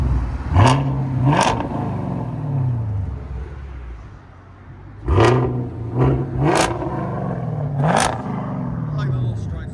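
A car engine fitted with long tube headers revs hard in two bursts of rising, throaty exhaust roar, then settles back, with wind buffeting the microphone and voices now and then.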